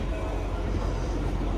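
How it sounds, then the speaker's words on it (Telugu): Shivalik Deluxe Express pulling into Barog railway station on the Shimla–Kalka line, a loud, steady rumble of rolling wagons close by, dense and continuous with no horn or voices. "ప్లాట్ఫామ్ నెంబర్ 2 మీద అయితే ట్రైన్ అయితే వచ్చింది."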